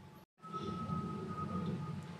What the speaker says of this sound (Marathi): तर हे मी मिक्सरला वाटून घेते.